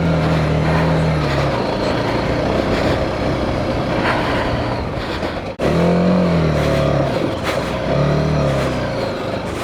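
A TVS Apache RTX 300 motorcycle climbs an off-road track, its engine droning loud and close with rising and falling revs, a brief dip midway and then renewed acceleration, with wind rushing over it.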